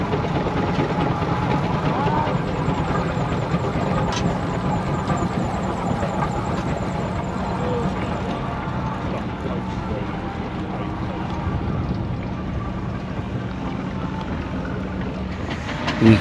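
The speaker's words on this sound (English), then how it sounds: "is a Foden steam lorry going up well up the hill, and then a evening porter traction engine" A Foden steam lorry and a traction engine climb a hill at a steam rally, giving a continuous, steady mechanical chugging rumble with clanking overtones at moderate distance.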